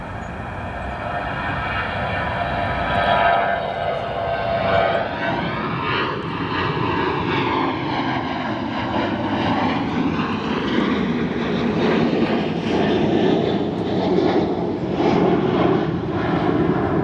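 Aircraft engines roar steadily at O'Hare Airport as a plane lines up on runway 28 right, a loud continuous whine and rumble with shifting tones that holds for the whole stretch.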